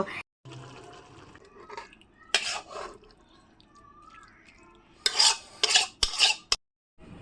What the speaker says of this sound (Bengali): আর এই কষানো মশলাটার মধ্যে আমি ভেজে রাখা কাঁঠালগুলোকে দিয়ে দিচ্ছি আমি খুব হালকা সামান্য পরিমাণে জল দিয়েছি